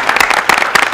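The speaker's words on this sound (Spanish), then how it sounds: "Aplauso, por favor." Brief burst of audience applause after a coin magic trick on a 1983 Spanish television comedy show, several loud, close claps in quick succession lasting about a second.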